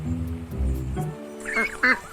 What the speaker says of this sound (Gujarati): અને પછી બતકોનું જૂથ આવ્યું.